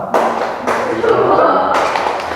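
A group of people claps together in a thumb-clap game in a classroom, with a few loud bursts of clapping following one another closely and only brief gaps between them.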